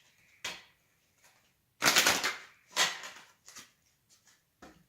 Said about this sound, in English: I'm just going to shuffle them again, just so you can see I have shuffled them.